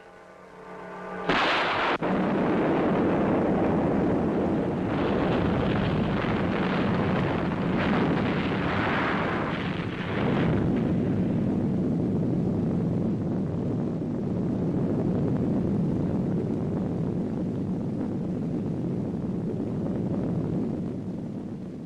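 A dynamite explosion sound effect from a 1962 film: a sharp blast erupts after a second of quiet and gives way to a long, loud roaring rumble that churns on for around twenty seconds, slowly easing.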